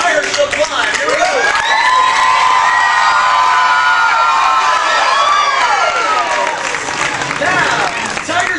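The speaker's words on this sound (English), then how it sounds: "the louder you guys cheer, the higher she'll climb" A crowd cheers, claps and whoops at a tiger show at Six Flags Great Adventure, loud and sustained with children shouting, rising and falling as voices swell across the stands.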